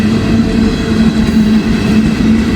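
An empty ethanol freight train rolls past close by with a loud, steady rumble and rhythmic wheel clatter over the rails.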